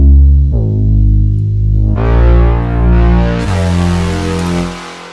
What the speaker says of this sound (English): That's the reverb acting as the release tail.